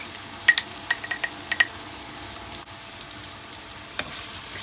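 Onions frying in a pan with a pinch of salt and a sugar cube, a steady soft sizzle broken by a few sharp clicks of stirring near the start, close and moderately quiet with no talk.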